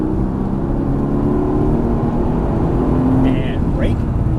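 A Mercedes AMG GT S accelerating hard on a race track, heard from inside the car as a steady, loud engine drone that holds throughout while a driving instructor talks over it.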